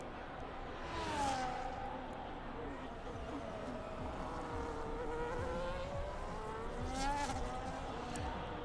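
An F1 race car engine in a racing video game, a buzzing whine sweeping up and down as gears change, fairly quiet and steady throughout, with a couple of brighter passing swells.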